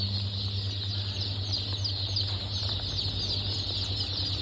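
Rhode Island Red chickens cluck softly in a poultry yard, with low, scattered calls half-buried in a steady, hissing background drone.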